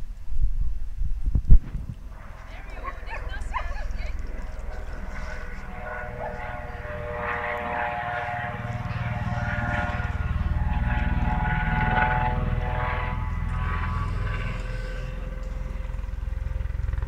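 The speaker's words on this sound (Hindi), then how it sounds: "कोई इमरजेंसी हो गई होगी, इसीलिए ये रेस्क्यू हेलीकॉप्टर आया था।" A rescue helicopter passes overhead at Blue Lake Provincial Park, Ontario, with a steady, droning rotor and engine roar that holds fairly loud throughout, after a brief knock at the start.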